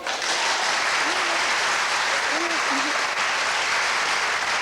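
A studio audience at a televised wheel-of-fortune game show claps loudly and continuously, a dense, steady wash of applause that carries through with only a faint vocal note underneath.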